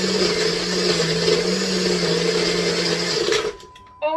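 A blender whirs steadily as it blends a fruit smoothie, running loud and continuous for about three seconds before the motor winds down and stops.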